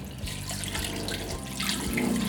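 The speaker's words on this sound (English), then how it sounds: "In goes some water" Water streams steadily from a tap into a cooking pot over turkey meat for Cameroonian ndolé, a continuous close splashing fill with no talk.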